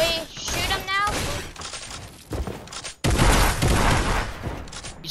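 Bursts of gunfire in a Fortnite-style squad match come as rapid volleys and heavy thuds, loud and close, with players talking over the shooting.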